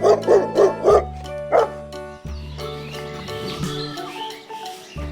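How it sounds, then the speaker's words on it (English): A dog barks in a quick run of four sharp barks, then one more after a pause, close and clear, followed by softer yips and whimpers. "Dog, sweet dog, black and red colored dog."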